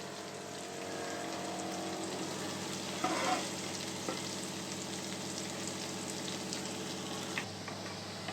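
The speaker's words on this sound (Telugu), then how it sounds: "ఇదిగోండి తాలింపు బాగా వేగిపోయింది" A tempering of onions and garlic sizzling in hot oil, a continuous crackling fry with light stirring scrapes, close by and steady throughout.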